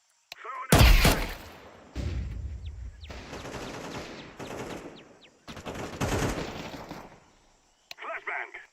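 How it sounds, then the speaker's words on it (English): Flashbang grenade and gunfire in a video game: a sharp loud bang followed by bursts of rapid shots and blasts in separate clusters, with shouted voices mixed in. "Throwing the flashbang!"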